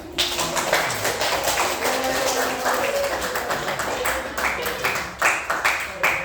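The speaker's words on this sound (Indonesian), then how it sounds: "beri tepuk tangan" A crowd claps steadily throughout, a dense patter of many hands that swells slightly toward the end, with voices mixed in.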